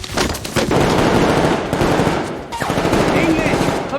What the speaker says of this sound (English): Machine gun or something.